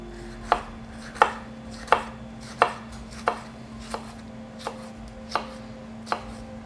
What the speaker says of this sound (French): on va couper les petits piments forts